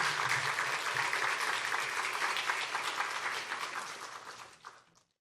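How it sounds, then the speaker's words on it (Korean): A church audience gives a big round of applause to welcome a pastor to the pulpit, a full, sustained crowd clapping that slowly thins and fades away to silence at the end. "저희들 큰 박수로 한번 맞이할까요?"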